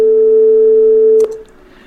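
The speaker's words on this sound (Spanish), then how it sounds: "En este caso tenemos un sonido de 440 Hz" A steady, loud 440 Hz pure sine tone holds evenly for over a second, then cuts off abruptly, leaving near silence.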